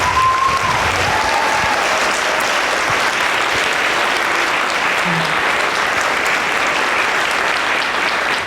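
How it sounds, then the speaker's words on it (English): An audience at an elementary school community celebration applauds the MCs, with dense sustained clapping filling the room from start to finish and a brief voice over the start. "can we give a round of applause to the MCs?"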